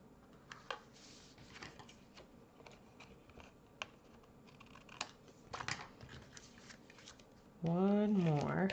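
A strip of patterned designer-series paper is trimmed for handmade cards, giving soft, scattered clicks and rustles of cutting and handling at close range, with a brief tonal warble near the end.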